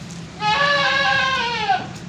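A young goat kid, one of a set of triplets on a Pakistani goat farm, gives one clear, wavering bleat lasting over a second, close and loud over a low background hum.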